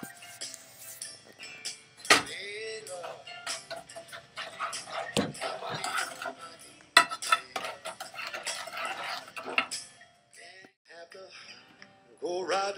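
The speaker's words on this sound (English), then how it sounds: "You have to stir it every once in a while." A spoon stirring strawberry jam in a pot, with irregular scraping and clinking strokes against the pot's sides that come and go under a voice, with a few brief pauses.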